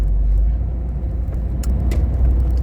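Austin Ambassador car with automatic gearbox driving, a steady low engine and road rumble close by throughout, with a couple of faint brief clicks, no talk.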